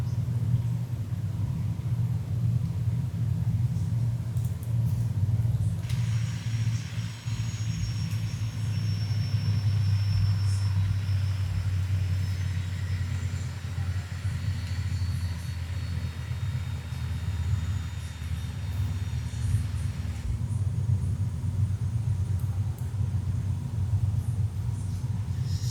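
A Westland Scout helicopter in Microsoft Flight Simulator 2020 winds down its rotor after engine shutdown, a continuous low rumbling drone with a faint higher whine that fades out partway through, no talking.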